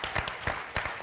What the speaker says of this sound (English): Please, a big round of applause for all of them for helping make this possible.